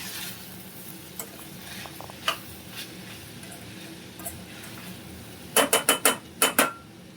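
Vegetables with salt and biryani masala are mixed in a pot for vegetable biryani, a faint low hum giving way to a quick run of about six sharp spoon-on-metal scrapes and clinks.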